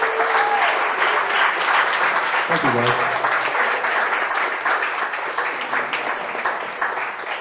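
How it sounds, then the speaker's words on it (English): An audience in a cigar bar lounge applauds a guest at a live talk event, a full, sustained round of clapping that slowly tapers while someone briefly speaks over it. "Give him a round of applause"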